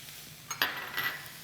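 Garlic, peppers and onion sautéing in a pan produce a low, steady sizzle, broken by a short metallic clink of a utensil against the pan and a brief scrape.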